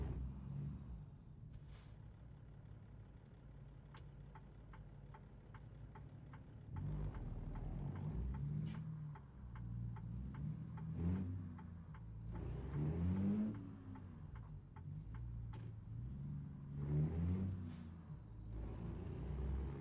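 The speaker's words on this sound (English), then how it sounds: "But this truck just wants to go." Western Star 49X truck in a trucking video game, its deep diesel engine rumbling and surging as it accelerates, with air brake hisses and faint beeps, steady and close.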